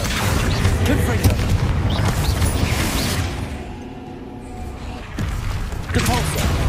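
Booming spell blasts and fiery bursts in Hogwarts Legacy, heavy and continuous with a short lull midway, while a voice shouts spell names over the explosions.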